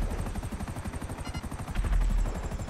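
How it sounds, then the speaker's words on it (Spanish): An enemy helicopter in the video game GTA 5 gives a steady, pulsing rotor chop, loud and close. The thudding beats run at a fast, even rhythm for the whole stretch, with a heavier low rumble near the end. "¡Oh, un helicóptero! ¡Un helicóptero enemigo!"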